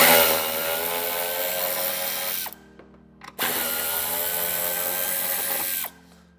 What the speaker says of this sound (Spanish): Una vez quitado el plástico, aflojaremos los tornillos